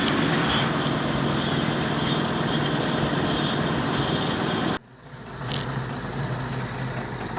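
The old carbureted engine of a boat idles after a valve fix, a steady low rumble with an uneven gallop, a sudden drop in level midway before the idle settles back in.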